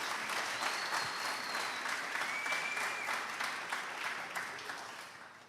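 Church congregation applauding in a steady, dense wash of clapping that carries on for several seconds and tapers slightly at the end, with no talking over it.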